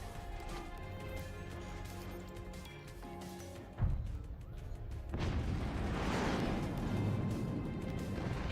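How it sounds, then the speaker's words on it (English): Shotgun fire in the Forts RTS game, a sharp heavy blast in the middle followed by a rumbling crash of impacts, set against steady game sound and music. "PQ fires and is shut down by Plear's shotgun"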